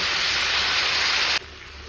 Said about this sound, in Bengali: খুব সুন্দর কষানো হয়ে গেছে এবার দিয়ে দেবো জল